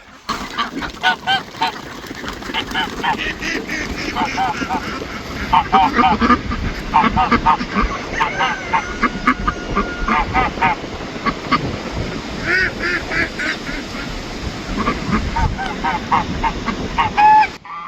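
Ducks and geese at a farm pond, honking and quacking repeatedly, loud and close, in overlapping bursts, while a person talks intermittently.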